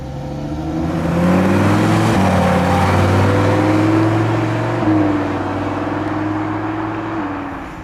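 An orange Lamborghini Huracan Tecnica with black wheels drives by, its engine rising to a loud, steady drone with gear shifts and then easing off as it pulls away.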